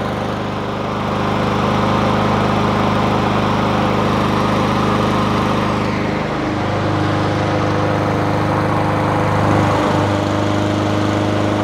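A Honda GCV160 engine on a Craftsman M250 lawn mower runs steadily and loud, a continuous close-up engine drone with slight shifts in pitch and load, no voices.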